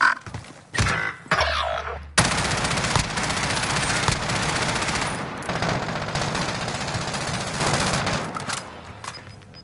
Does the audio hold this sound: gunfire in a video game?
yes